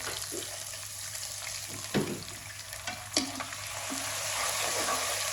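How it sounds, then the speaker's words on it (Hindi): Water poured into hot ghee in a cooking pan sizzles and crackles steadily throughout, with a few sharper spits and pops standing out over the continuous frying hiss. "अब यहाँ पे डाल देंगे थोड़ा सा पानी"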